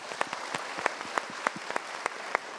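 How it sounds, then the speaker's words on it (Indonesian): A studio audience applauds a guest on a TV talk show, with sharp individual claps in an irregular rhythm over a soft background patter. "Kita berikan tepuk tangan untuk Bapak."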